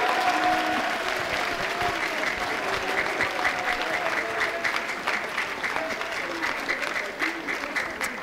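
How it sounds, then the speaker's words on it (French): A school conference audience gives sustained applause to an honored guest, steady even clapping from a large room that holds for several seconds, with a faint voice audible early on. "je crois que vous pouvez l'applaudir"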